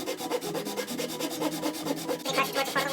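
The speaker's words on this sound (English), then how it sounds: "We're going to try to cut this as straight as we possibly can with a handsaw" A handsaw cuts through wood for a Japanese toolbox in steady, evenly spaced rasping strokes, slow and deliberate, close and loud, with no talking.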